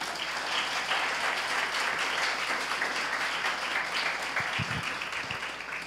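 A church congregation claps in praise during a Spanish-language prophecy service, a fairly faint but continuous wash of applause from the room with a few sharper nearby claps toward the end.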